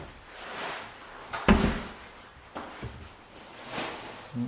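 A wooden vanity drawer pushed shut, knocking against its protruding handle where it meets a countertop, giving one firm thud with a short rattle and a few softer bumps in a quiet room.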